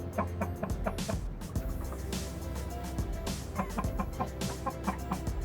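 Imported pure-breed Australorp hens on a poultry farm in Pakistan cluck repeatedly in steady overlapping bursts, close and fairly loud, over a constant low hum and no talking.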